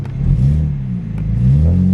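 Subaru WRX with a manual gearbox pulling away under throttle, a close, loud engine rumble with rising and falling revs as the clutch engages, heard alone without talk.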